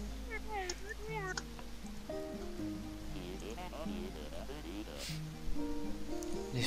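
A pet cat meows repeatedly at close range indoors, a run of short rising and falling cries with a low steady hum behind it.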